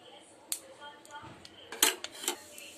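A metal spoon clinks sharply against a heated cooking pot while ghee is added for sago kheer, several bright, close metallic taps and scrapes spaced irregularly, with faint voice in the background.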